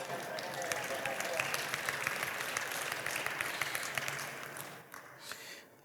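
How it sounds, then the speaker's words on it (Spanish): A church congregation claps for the Lord in praise at a service on holy anointing oil, a dense, steady round of applause that holds strongly for about five seconds before thinning and fading out. "Un aplauso al Señor."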